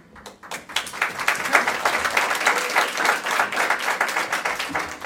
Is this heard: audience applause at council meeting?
yes